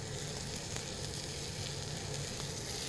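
Corn kernels fry in butter in a pan, giving a close, even sizzle that stays steady throughout.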